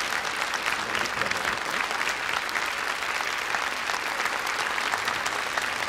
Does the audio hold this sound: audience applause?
yes